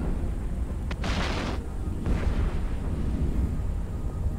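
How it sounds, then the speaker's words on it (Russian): Muffled booming explosions of spaceships in the video game Eve Online rumble over a steady low drone, with a sharp crack followed by a burst of crackling debris and another distant blast. "Хорошо взрываются, красиво."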